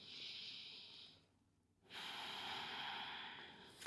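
Slow, relaxed breathing of a person resting in child's pose during a carpal tunnel relief exercise session, a long airy inhale, a quiet pause, then a long exhale, close and soft with no talking.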